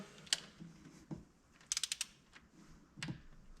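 A torque wrench tightens a bolt during water pump and thermostat work on a 2004 Jeep Liberty, giving a few faint, close, sharp clicks, including a quick rapid cluster of ratcheting snaps.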